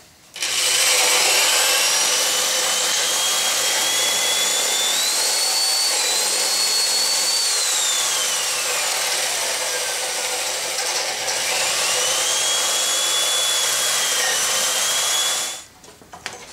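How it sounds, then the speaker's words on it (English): A power drill with a spade bit bores steadily into hard oak, a loud continuous whine rising and falling in pitch as the bit works, then stopping abruptly. "this oak is like drilling iron."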